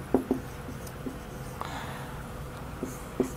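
Writing on a board during a lecture: a few soft, scattered taps and short scratchy strokes, quiet and close, with no talking.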